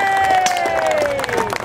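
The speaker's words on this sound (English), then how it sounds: "Can we have a round of applause for them?" Crowd at a medieval fayre combat display cheers and applauds the winning side, loud and close, with whistles and voices rising over the clapping.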